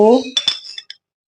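Metal spoons clink against a bowl or jar while cumin, carom and fennel seeds are measured for a home remedy. A brief voice comes first, then a few light, close, ringing clinks that stop abruptly.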